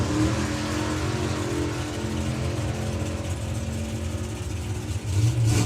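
The Hellcat Cougar drag car accelerating down the strip during a qualifying round at a drag racing event, its engine giving a continuous loud roar that holds steady before rising near the end.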